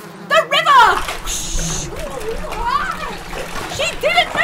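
A performer's voice imitates river water splashing during a theatre story performance, a brief rushing hiss followed by sloshing vocal gurgles, close and fairly loud, with other voices chiming in around it.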